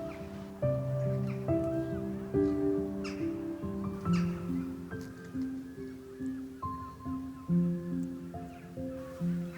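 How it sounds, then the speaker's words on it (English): Crows caw in early morning, with several harsh calls in irregular succession, fairly close and loud over a quiet outdoor background. "The birds become a little more active."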